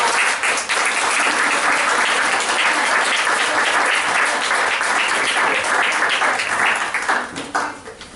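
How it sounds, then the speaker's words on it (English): A room of people at a community engagement session applauds warmly for three guests, dense continuous clapping close and loud for several seconds before tapering off at the end. "Can we give these 3 wonderful people, Thabiti, Nick, and Grace, a warm round of applause?"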